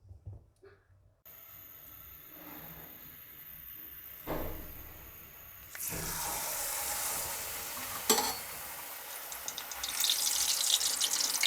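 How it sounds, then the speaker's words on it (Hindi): A bhatura dropped into very hot oil bursts into a loud, bright sizzle that builds and stays strong, after a quieter stretch of faint kitchen noise. "भटूरे को फुल गर्म ऑयल में 1 सेकंड के लिए डालेंगे और उसकी साइड चेंज करके फ़ौरन निकाल"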